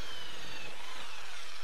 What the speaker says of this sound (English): I'm going to drill 4 holes around the edge of the perspex